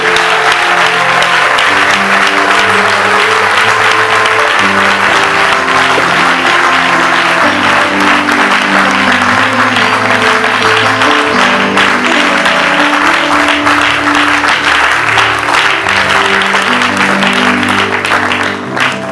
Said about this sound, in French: Sous vos acclamations, je fais l'appel à Papa Moïse pour l'acclamer pour la vérité